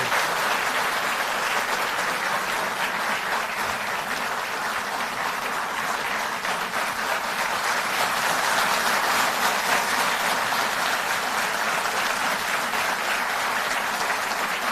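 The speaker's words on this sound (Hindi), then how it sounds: "एक बार जोरदार तालियों से हम आदरणीय मुख्यमंत्री जी का अभिनंदन करें" A large crowd gives loud, sustained applause welcoming a chief minister at a Delhi Jal Board workers' event, with dense, even clapping continuing unbroken throughout.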